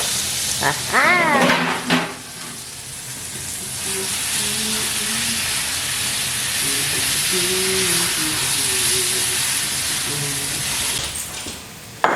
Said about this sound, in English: while our meat is cooking